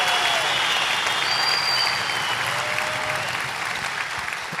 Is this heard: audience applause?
yes